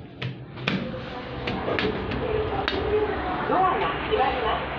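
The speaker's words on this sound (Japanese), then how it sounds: "ドアが開きます。" Fujitec elevator doors slide open with soft clunks and a low mechanical rumble, set against steady background noise.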